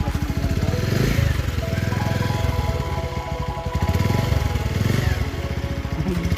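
A motorcycle engine runs steadily while being ridden, a loud, continuous mid-pitched drone with a rapid pulsing beat that swells and eases slightly throughout.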